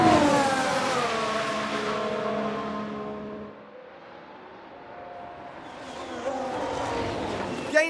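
Ferrari Formula 1 car from the F1 Manager 22 game, high-pitched engine screaming past then fading away, with a second car's whine rising at the end.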